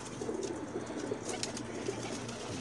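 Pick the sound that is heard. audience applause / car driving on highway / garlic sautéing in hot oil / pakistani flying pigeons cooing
pakistani flying pigeons cooing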